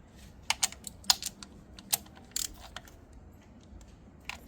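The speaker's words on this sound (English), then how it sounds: "let me get my ratchet so I can snug it up" Ratchet clicks while snugging valve cover gasket bolts on an Infiniti FX35/G35 engine, heard as a few sharp, close metallic ticks in short bursts with quiet gaps between.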